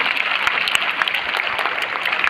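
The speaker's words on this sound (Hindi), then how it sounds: "सभी शिक्षकों के लिए, अपने सारे गुरुओं और टीचर्स के लिए जोरदार ताली बजाइए" Loud, dense applause from a school audience clapping for its teachers at a Kendriya Vidyalaya event in Sagar Cantonment, a steady unbroken wash of many hands with no talk over it.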